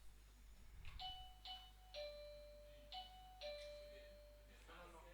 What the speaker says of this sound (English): they will indicate to me their readiness by ringing the bell